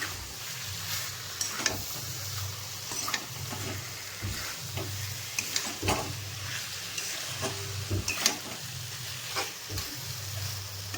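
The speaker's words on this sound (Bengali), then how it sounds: "আমি কিছুক্ষণ কষিয়ে নেব আর একটু ভালো করে কষিয়ে নিই" Chicken and fried taro being sautéed in a pan for an old Bengali village-style curry: a steady sizzle with repeated scraping stir strokes, close and fairly loud, with no talking.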